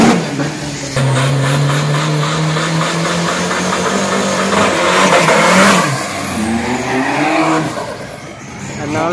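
An Isuzu 1.9 DDI pickup at a Bang Len car racing event revs hard and accelerates away, its loud engine note climbing and falling with tire noise mixed in.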